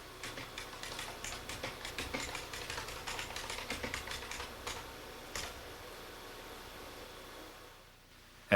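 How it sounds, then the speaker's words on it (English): Rapid, steady keystrokes on an IBM Personal Typing System typewriter keyboard from 1987, clattering close and alone for about five seconds with a few isolated key presses afterward, then quiet. "text is printed as the characters are typed."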